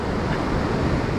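Ocean surf rolling onto a beach during surf fishing for perch, a steady, loud wash of breaking waves with wind noise and no voices.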